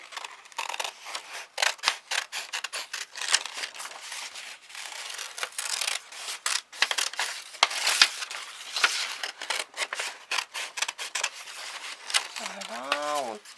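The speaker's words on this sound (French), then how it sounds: "Voilà, on découpe, on découpe, on découpe." Scissors snip through paper in a close, quick run of crisp, rhythmic cuts for a children's craft. A brief warbling sound rises near the end.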